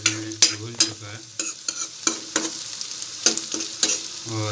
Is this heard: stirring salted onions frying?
yes